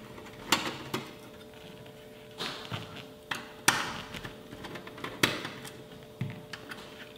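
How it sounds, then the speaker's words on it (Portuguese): A screw is worked loose from a desktop PC case, producing a string of close, irregular taps, clicks and light knocks against the metal chassis over a quiet background hum, with no voices. "Então eu faço a remoção do parafuso do gabinete."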